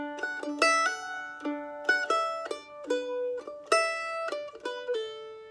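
A mandolin plays the intro melody of a song in D as bright, clean plucked notes in a lilting rhythm, alone and up close.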